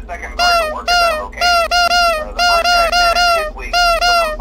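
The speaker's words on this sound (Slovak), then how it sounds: "keď si klikne tento Freddyho nos, tak vám to prehrá tento zvuk" Freddy's nose in Five Nights at Freddy's 2 gives a bright, harmonic toy-horn honk, repeated about five times in quick bursts, loud and close with no voices.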